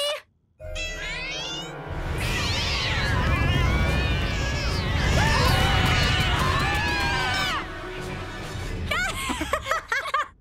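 Cartoon cats meowing and yowling as a loud, dense chorus after catnip is released, rising and falling over a busy, noisy background and ending in scattered sharp bursts.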